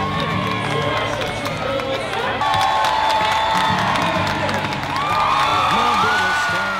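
Large crowd of spectators at a figure skating competition, a dense, steady roar of cheering and shouting with whistles and rising whoops, loud and close throughout.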